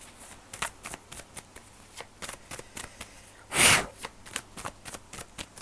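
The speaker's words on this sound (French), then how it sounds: "Des cartes qui sont tombées." Tarot-style cards spilling and being gathered up: a series of quiet papery taps and slides, with one louder whoosh of cards in the middle, close and soft.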